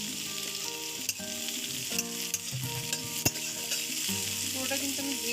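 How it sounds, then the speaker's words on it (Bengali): Cashews and raisins frying in a pan for vermicelli make a close, steady sizzle broken by a few sharp clicks of a stirring spoon. "ভাজা ভাজা করে নেবো"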